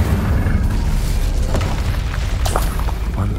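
A fiery Incendio spell in Hogwarts Legacy erupts as a loud, dense, rumbling blast that fills the whole moment, with deep booming roar and crackling bursts layered throughout.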